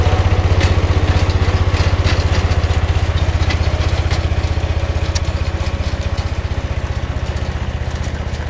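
A tiller engine runs steadily in a carrot field, a loud, close mechanical chug with a fast, even throb that holds constant throughout, no voices.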